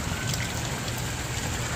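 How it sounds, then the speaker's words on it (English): Heavy rain pours during a storm onto a 4000-gallon outdoor salt pond, a dense, unbroken hiss of drops that stays steady and loud throughout, with no voices. "We've already gotten 2 inches of rain"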